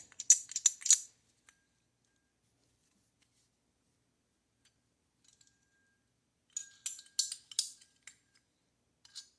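Light metallic clinks come in two quick clusters separated by a long quiet gap, small and bright, from a loose ring inside a BMW N20 turbocharger with no impeller.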